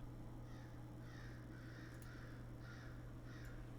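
A crow caws repeatedly in a regular series of harsh calls, heard faintly over a steady low hum.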